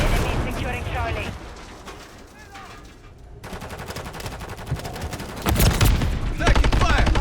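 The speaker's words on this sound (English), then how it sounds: "Taking fire." Bursts of automatic and single-shot gunfire in Modern Warfare 3 rattle loudly and keep building, with chirps and battlefield noise around them and voices talking over the shooting.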